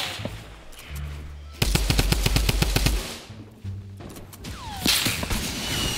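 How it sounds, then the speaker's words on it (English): Drum gun fire in the Fortnite video game comes as a fast burst of rapid shots, loud and close, with other gunshots and game sounds around it. "Oh, there's the drum gun. What, he got his drum gun?"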